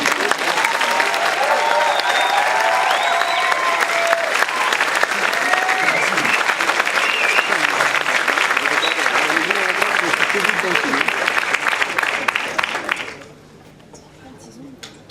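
Dense, loud applause from a Q&A audience greeting director Fede Alvarez, sustained for about thirteen seconds before cutting off abruptly into a quiet room with faint murmurs.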